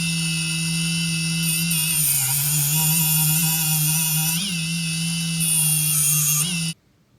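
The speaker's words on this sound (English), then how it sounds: "We are just elongating the bevel of the needle, and it is important that we polish the side of the needle also" A small grinding tool works the bevel of a steel needle for a hair transplant implanter, a steady high-pitched whine with harmonics that wavers slightly in pitch, runs continuously up close and cuts off abruptly near the end.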